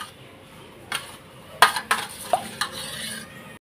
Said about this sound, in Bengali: এই যে ডিমগুলো আমি ফাটিয়ে নিয়েছি, ফাটিয়ে নিয়ে ভালো করে গুলিয়ে নিচ্ছি আর কি।